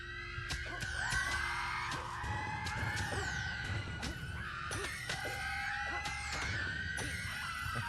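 Shrill screams repeat from characters in the video game Fable: The Lost Chapters, several overlapping cries over clashing and banging combat effects.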